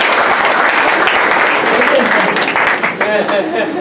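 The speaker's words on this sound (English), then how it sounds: "please, applause for all of you who have attended here" Audience applause at a book launch during an authors' conference, a dense steady wash of many hands clapping close and loud, with voices and cheers mixed in toward the end.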